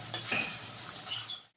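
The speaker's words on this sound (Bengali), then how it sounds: "আমি উল্টে পাল্টে একটু রং ধরা তক ভেজে নেব।" Papaya pieces, just flipped, fry in hot oil with a close, steady sizzle. A brief clink of a utensil against the pan comes before the sound cuts off, and no one speaks.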